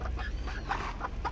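A broody hen clucks beside a newly hatched black chick, a few soft repeated clucks up close over a steady background hum.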